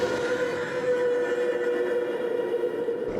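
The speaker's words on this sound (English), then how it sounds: "The monster's roar sounds like this." Roar of the kaiju Gigantron from Ultraman Rising: a sustained, grinding, mechanical-sounding bellow with a steady tonal core, loud and continuous for about three seconds, alone with no talk.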